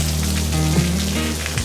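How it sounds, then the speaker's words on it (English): Freezing rain falls steadily near freezing temperatures on a Highway 12 ride, a constant close hiss of drops with a low steady engine drone beneath, no talking. "it's starting to become freezing rain."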